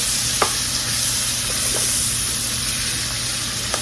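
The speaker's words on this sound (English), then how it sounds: "I just want to saute these just a little bit, get them going, get them started" Rutabagas sautéing in grease in a pan, a steady bright sizzle with a few soft stirring clinks, close and continuous with no talking.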